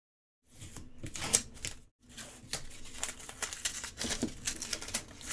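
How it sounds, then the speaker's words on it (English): Tape peeled away from an engraved mirrored ornament to lift off debris gives crisp crinkling and crackling bursts, close and moderately loud, with a short pause near the start. "I'm gonna go ahead and just use my tape to pick it up. Peel it off."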